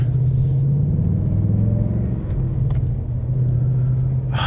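A 2025 Ford Mustang GT with a manual gearbox and reworked Coyote V8 rumbles close by with a deep steady burble, its pitch shifting slightly as the revs swell and settle, with no talking.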